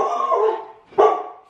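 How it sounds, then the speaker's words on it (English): A dog barks at a package delivery, two loud close barks about a second apart, the first drawn out and the second sharp, with no talking. "stop barking because we just got a package delivered"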